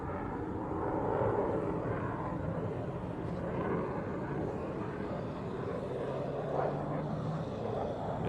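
A Saab Gripen fighter jet flies its display at the 2016 Farnborough International Airshow, heard as a steady, fairly distant engine roar that holds at an even level, with no one speaking.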